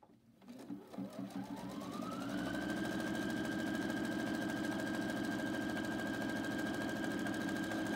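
A sewing machine stitches a vertical buttonhole on shirt fabric, starting up and settling into a loud, fast, steady mechanical whir with rapid needle clatter, close and with no talking.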